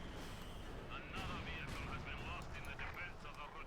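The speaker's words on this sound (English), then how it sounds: "Mortar fire running down" Mortar fire in a Company of Heroes 2 match between OKW and Soviet forces: dull distant thuds and rumbling impacts under steady battle noise, with a commentator talking over the whole stretch.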